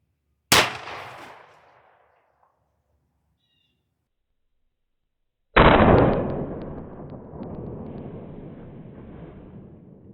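Two sharp, loud shotgun blasts of Aguila Minishell buckshot fired into water jugs outdoors, about five seconds apart. The first decays quickly into silence, and the second is followed by a long, rumbling tail.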